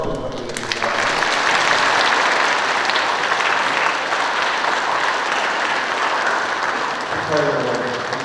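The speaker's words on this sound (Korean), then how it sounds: "함께 축하의 박수 부탁드리겠습니다." Catholic Sunday Mass congregation in a church giving congratulatory applause, a sustained, dense wash of clapping from many hands that lasts several seconds before fading, with a brief voice near the start.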